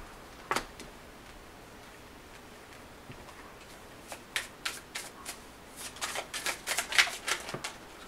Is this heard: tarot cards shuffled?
yes